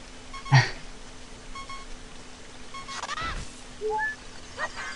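A handful of short electronic beeps from a Zelda video game sound at irregular intervals over quiet hiss, with a brief sweeping tone in between.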